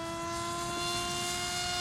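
Electric motor of an RC foam fighter plane at full throttle, a steady high-pitched whine with a constant propeller buzz, held at even loudness throughout without any talk.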